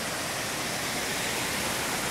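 Water from the Guarruz creek rushes steadily through a drainage channel, a dense, continuous broadband roar like a small waterfall, close and unbroken with no voices.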